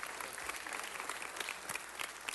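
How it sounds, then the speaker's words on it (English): A room of people applauding a man named Brian Juarez at a city council meeting, steady dense clapping throughout, moderately loud and fairly close. "Let's give Brian Juarez a round of applause"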